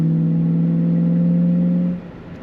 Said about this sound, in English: You can hear those 4 barrels opening up.